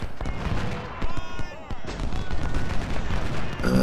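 Musket volleys and scattered rifle fire from the Civil War strategy game Ultimate General, set at Malvern Hill, crackle loudly and continuously over dense battle rumble.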